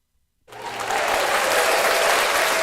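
A canned applause sound effect fires from a soundboard during a gaming chat, starting abruptly after a brief silence and holding as a full, even burst of crowd clapping.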